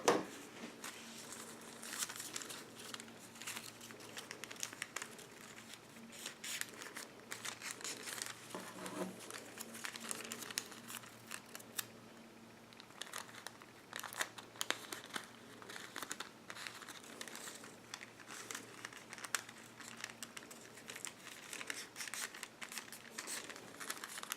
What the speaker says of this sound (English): I'm just going to tear this edge off because I don't need that much.